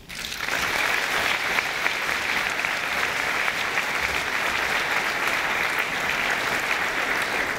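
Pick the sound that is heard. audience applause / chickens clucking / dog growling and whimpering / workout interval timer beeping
audience applause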